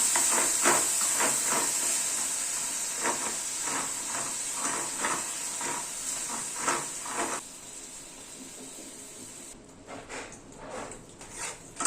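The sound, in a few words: sugar and water caramelizing in a pan on low flame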